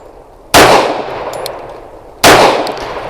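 Two loud, sharp pistol shots from a Bersa B1911 firing brass-cased handgun ammunition, about 1.7 seconds apart, each ringing out and decaying slowly with no talk.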